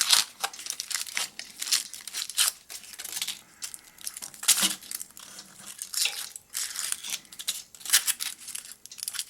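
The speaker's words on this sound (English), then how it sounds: "In other words, sometimes the tin foil comes off easy and sometimes it doesn't." Tin foil being peeled off a black palm pen makes steady close-up crinkling and tearing with dense bursts of crackle, quite loud and continuous, with no voices.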